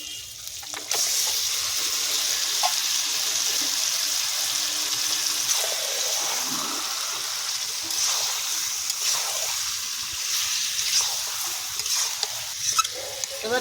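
Marinated chicken hits a hot pan for a chicken curry, giving a loud, steady sizzle that holds for the whole stretch, with faint stirring scrapes near the end and no talking.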